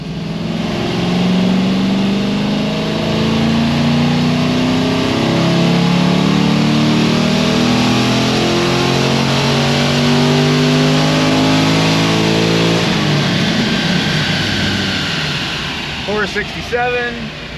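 A Pontiac GTO with an LS2 V8, fitted with upgraded heads and cam, revs on a dyno, its loud engine note climbing steadily in pitch for about thirteen seconds before abruptly dropping off and winding down.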